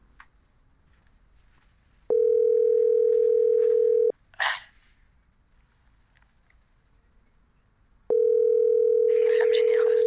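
A telephone ringing tone on a call: two long, steady, loud tones separated by a few seconds of quiet, with a short burst of noise in the gap.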